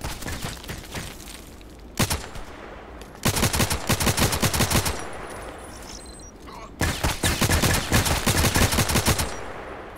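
Bursts of automatic RFB rifle fire in the online shooter Contract Wars, three long rapid volleys of loud close gunshots separated by quieter gaps, with faint voice chat in the background.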